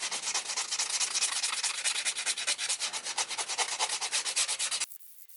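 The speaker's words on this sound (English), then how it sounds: "we have finished all the filing" Acrylic dip nails being filed and sanded, a close, rapid run of rhythmic rasping strokes that goes on steadily, then stops abruptly near the end.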